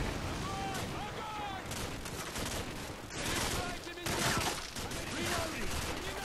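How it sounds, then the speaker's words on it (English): Gunfire in Call of Duty 4: Modern Warfare, dense continuous bursts of rifle and machine-gun shots with loud blasts throughout, with game voices and sounds mixed in. "Okay, now we shoot him."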